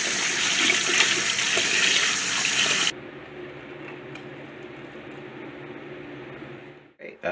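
A faucet runs loudly for about three seconds while a tarantula's water dish is cleaned and refilled, then cuts off abruptly, leaving a quiet room hum and a couple of small clicks at the end.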